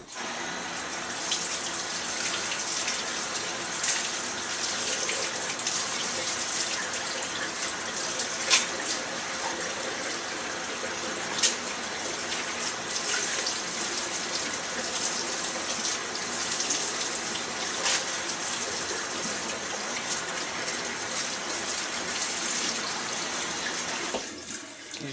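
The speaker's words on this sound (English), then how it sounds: "Then put it under some water." Tap water runs steadily over a peeled onion, a continuous close splashing gush that lasts throughout and cuts off at the very end.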